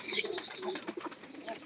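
Pigeons cooing close by in soft, throaty, repeated low calls with a faint chirp over a quiet background, without talk.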